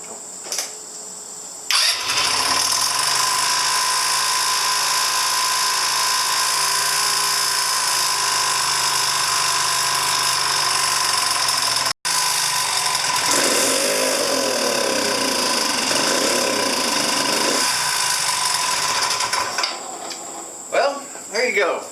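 A 2009 Genuine Buddy 125 scooter engine catches after a brief crank and settles into a steady, buzzing idle, cutting out once briefly before running on, faint clatter over the top.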